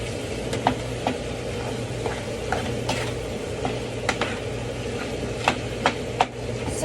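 Crab salad being stirred and mixed by hand in a bowl, with soft continuous scraping and repeated light clicks of a utensil against the bowl, close and steady with no talk.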